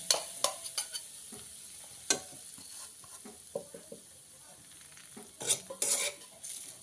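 Grated coconut roasting in ghee in a pan, a soft steady sizzle with irregular close scrapes and clinks of a spoon stirring against metal, no talking.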